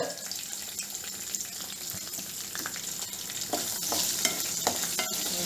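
Drumstick pieces fry in a covered pan for a drumstick curry, giving a steady crackling sizzle. Scattered scrapes and clicks of stirring grow a little busier toward the end.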